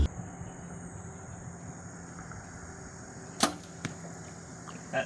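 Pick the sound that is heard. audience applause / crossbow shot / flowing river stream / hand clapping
crossbow shot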